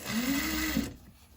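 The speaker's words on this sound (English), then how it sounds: "I'm going to sew our 1/2 centimetre 5mm seam allowance" A sewing machine stitches a 5mm seam on a bag, a steady close mechanical whir that runs for under a second and then stops, leaving quiet.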